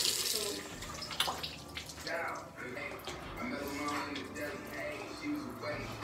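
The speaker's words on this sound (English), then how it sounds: "Now I'm going to wash my face." A tap runs steadily into a sink while someone washes their face. The water keeps splashing and rushing, and a voice talks over it.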